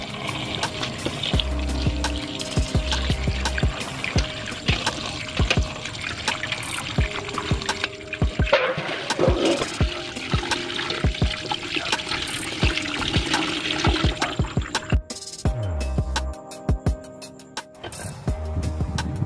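Celery is swished and rinsed in water, making continuous close splashing and trickling with scattered small knocks and clicks throughout.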